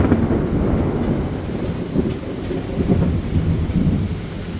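Heavy rain pours steadily under a deep, continuous rumble of thunder during an intense July thunderstorm in Bauxite, Arkansas, loud and enveloping throughout with no voices.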